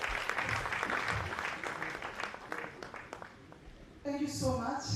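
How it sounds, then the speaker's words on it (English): Audience applause in a room at a labor union gathering, steady broadband clapping for several seconds before a voice cuts in near the end. "Round of applause, please"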